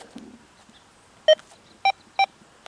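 Three short, clear electronic beeps from a metal detector signalling iron, one then a pair close together, over faint background hiss.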